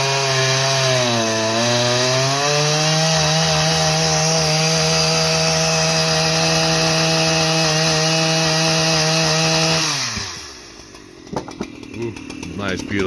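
A Husqvarna 3120XP chainsaw runs at high, steady revs cutting big hardwood pieces outdoors, loud and close, its pitch dipping under load before it drops to idle with knocks and handling noise at the end.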